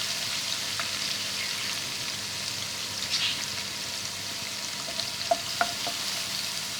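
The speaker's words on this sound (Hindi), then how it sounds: "अदरक लहसुन है, हम इसको शामिल करेंगे, तो भूनेंगे।" Ginger garlic paste fries in a mix of oil and ghee with a steady, soft sizzle, broken by a few small pops and crackles near the end.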